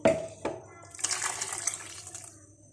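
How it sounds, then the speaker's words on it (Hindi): Water poured from a cup into a pot of lassi mixed with spices for kadhi, a soft splashing, gurgling stream near the microphone, preceded by a couple of brief clinks, with no talking. "1 कप मैं इसके अंदर पानी भी ऐड करूंगी।"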